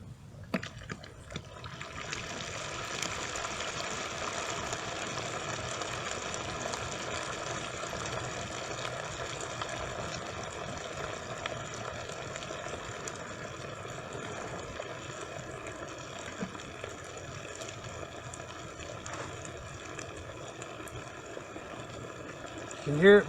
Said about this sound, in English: You can hear it bubbling because it's got more turpentine in it than the old pitch